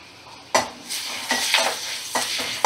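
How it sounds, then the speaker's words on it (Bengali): Thin potato strips fry in a pan over a medium gas flame, a steady sizzle broken by several sharp utensil scrapes and clinks as they are stirred, close and fairly loud. "আলুটা একটু লাল লাল করে ভেজে নেব"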